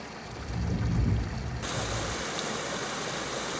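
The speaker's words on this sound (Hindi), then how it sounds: "नदियों से बहते पानी की आवाज़ इतनी सुरीली लग रही थी" A river rushes through the Valley of Flowers, a dense broadband roar of flowing water heard close and steady, with a brief low rumble at the start.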